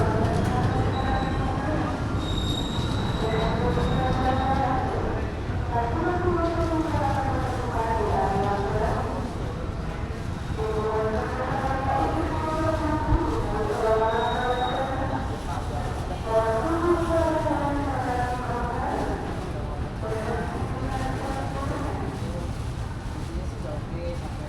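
Gumarang passenger train standing at a station on a Jakarta to Semarang run; a low rumble and hiss persist beneath recurring wavering tonal calls, with people's voices faintly mixed in.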